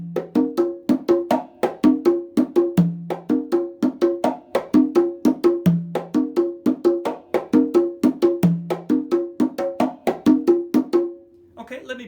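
Congas play a slow adaptation of the chachalokefun rhythm: steady open and slap strokes with low tones recurring in a looping pattern, close and clear, alone, ending in a short decay.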